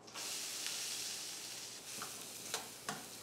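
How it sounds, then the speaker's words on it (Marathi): Finely chopped onion sautés in oil with cumin over low heat, giving a soft, steady sizzle with a few faint stirring clicks, quiet and close. "आणि हा कांदा मंद आचेवर आपल्याला परतून घ्यायचा आहे।"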